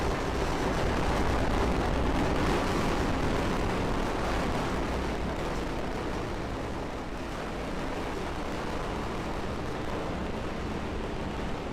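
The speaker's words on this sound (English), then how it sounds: "Vehicle is pitching downrange. Godspeed, rocket." A SpaceX Falcon 9 rocket launching the JCSAT-18/Kacific1 mission gives off a continuous, heavy broadband roar that stays steady and loud throughout.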